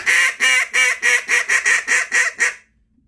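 Duck Lander duck call blown as a Cajun squeal, about nine quick, rhythmic, loud quacking notes close up, then a sudden stop into silence.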